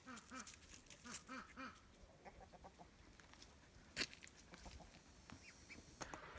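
Ducks quack repeatedly in short bursts, mixed with clucking chickens nearby, with a sharp louder call near the middle.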